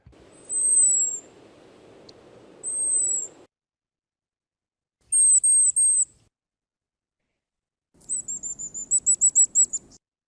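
Very high, thin bird call notes come in short separate bursts: two drawn-out whistles, then a quick run of clipped notes, and finally a rapid stuttering series, clear and fairly close over a faint low rumble.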